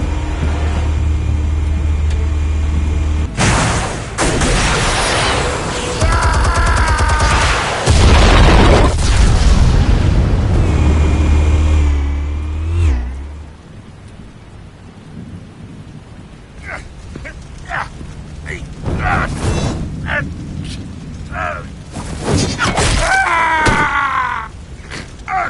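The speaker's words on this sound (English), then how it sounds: "Explosives armed. Fire when ready." Explosives detonating in Batman: The Telltale Series: heavy, deep booming rumbles fill the first half loudly, then fade into quieter scattered thuds and crackling debris.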